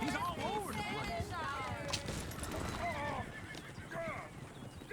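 Horses neigh and whinny repeatedly in the Red Dead Redemption 2 game, loud and close, with hoof clatter and someone talking over them.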